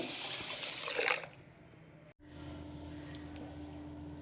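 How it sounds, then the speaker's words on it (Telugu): Water is poured over moong dal in a bowl to soak: a brief rushing splash for about a second, then it fades to quiet with a faint steady hum in the kitchen. "పప్పు మునిగేంత వరకు వాటర్ వేసుకోవాలండి"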